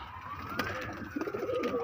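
Madrasi pigeons cooing softly up close, a few low throaty coos over faint background hum and a distant siren-like whine, with no clear talk.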